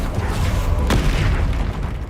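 A Bombarda spell going off in Hogwarts Legacy, a single loud explosive boom landing a little before the one-second mark over steady, dense game noise.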